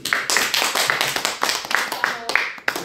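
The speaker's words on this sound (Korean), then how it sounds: "박수 치셔야지." Clapping from a lecture audience at a Cheondogyo religious talk, a run of close, crisp claps at an uneven rhythm over about three seconds, with a voice talking across it.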